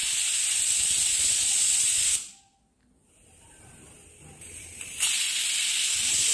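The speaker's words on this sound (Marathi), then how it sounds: "त्यावेळी आपण कुकरचं झाकण लावून 2 शिट्ट्या काढून घेऊया।" A pressure cooker lets off loud, steady hissing steam, which cuts off abruptly, goes quiet for a few seconds, then bursts out again at full strength, with no voices.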